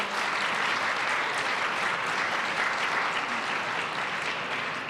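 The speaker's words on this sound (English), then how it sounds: "You can clap for her." An audience at a symposium on trauma-informed response to violence claps steadily for an event organizer, a continuous even patter of many hands at moderate loudness with no voices on top.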